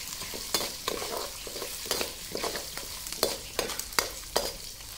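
Ginger, garlic and dried red chillies sautéing in a pan, with a steady crackling sizzle broken by repeated sharp scrapes and stirring strokes, close up and with no talking.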